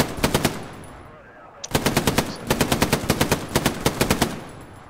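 Automatic gunfire in the World War II shooter Hell Let Loose: a brisk burst of evenly spaced shots, a brief pause, then a longer sustained burst at the same rapid rhythm, fairly close and loud.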